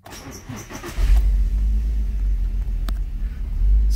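An Audi TT fitted with a turbocharged 3.4-litre VR6 cranks and fires up after a second, then settles into a deep, loud rumbling idle that continues steadily to the end.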